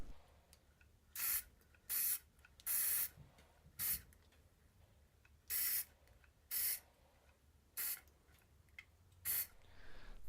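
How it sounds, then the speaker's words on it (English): Short bursts of spray gun hiss applying lacquer finish to furniture, about eight of them at uneven intervals, each lasting around half a second, with quiet gaps between. "I'm going to spot spray these areas here, build up a little more finish"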